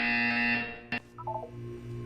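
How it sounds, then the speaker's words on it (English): An electronic buzzer in the video game Portal sounds a loud, steady tone, cuts off abruptly with a click, then a few short, quieter beeps follow over a low background hum. "When you hear the buzzer, look up at the ceiling."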